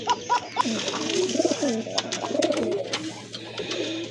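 A black domestic pigeon at a pigeon sale repeatedly coos at close range, with low rolling calls rising and falling between a few sharp clicks and rustles.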